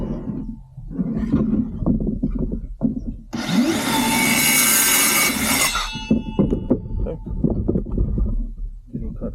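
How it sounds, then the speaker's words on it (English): Hand saw cutting through wood to form an equilateral diamond shape, a steady loud rasping stretch of strokes in the middle with talking before and after. "I know my saw and I can kind of feel for it, so I'm not going to change the blade. I'm just going to cut it."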